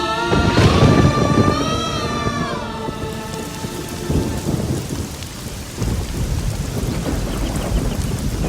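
Heavy wild rain pours steadily as a jungle thunderstorm rolls, with loud thunder rumbling early and a broad roar of rain on surfaces continuing throughout, no voices present.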